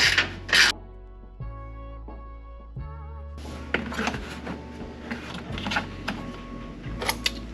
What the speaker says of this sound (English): So the first thing we're going to do is remove this bolt.